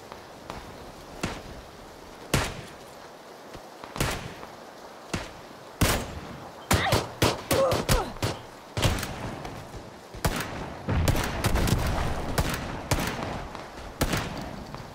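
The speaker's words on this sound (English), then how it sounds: "I shot this guy 4 times and he didn't die" Gunshots in a PUBG match on the Mylta Power map ring out as scattered single cracks and quick bursts, some distant and some closer, with footstep-like thuds in between.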